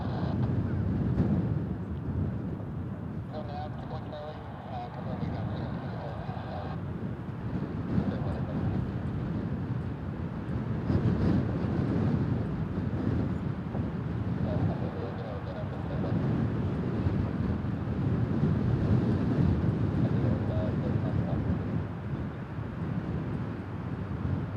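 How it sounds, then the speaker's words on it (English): Strong, rough wind blows through trees at an airbase, a steady broadband roar that surges and gusts without pause, with low rumble and buffeting on the microphone throughout. "Wind's getting really rough now. The trees are all moving around now."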